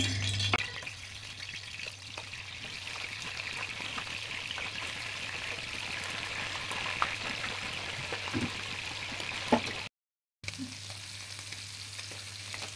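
Beef liver pieces fry in hot oil for a liver roast, giving a steady close sizzle and crackle with occasional stirring scrapes and a brief cut near the end.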